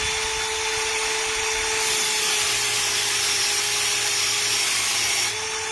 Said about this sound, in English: Then I'm going to reverse the drill. I'm going to go back and I'm going to do my my final cut on it